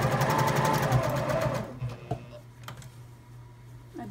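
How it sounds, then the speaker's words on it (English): A sewing machine runs steadily as it stitches along a fabric edge while a zipper pouch for sunglasses is sewn, its rapid needle rhythm loud for the first second and a half, then stopping and leaving faint clicks and handling sounds. "Keep sewing along the edge."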